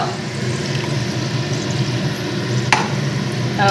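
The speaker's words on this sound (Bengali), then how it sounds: "এবার মশলাটা আমি এর মধ্যে দিয়ে দেবো।" A spice paste of ginger, cumin and garlic is added to a pan with garlic, salt and turmeric, then stirred, giving a close, steady sizzle and wet stirring with a sharp clatter near the end.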